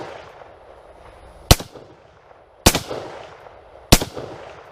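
Three sharp rifle shots of .223/5.56 fired at a steel target, evenly spaced about a second apart, each a loud close crack with a short echoing tail.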